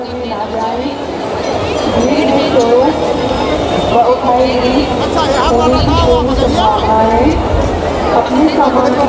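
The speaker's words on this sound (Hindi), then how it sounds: "ब्रह्मकुंड घाट पर आप देख सकते हैं आज बहुत ही ज़्यादा भीड़ है" Huge crowd of pilgrims at Brahmakund ghat in Haridwar during the 2021 Kumbh Mela Mauni Amavasya bathing day: loud, steady hubbub of many overlapping voices, close and continuous throughout.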